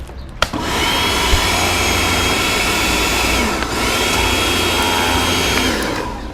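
A Karcher K2 pressure washer runs steadily while washing a Honda CB650R motorcycle, a loud continuous motor whine that holds for about six seconds with one brief dip midway and no talking.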